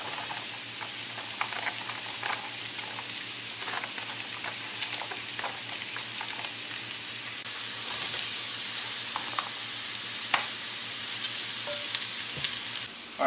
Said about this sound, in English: my onions, and my carrots are all in the pan, and I've actually increased my heat a little bit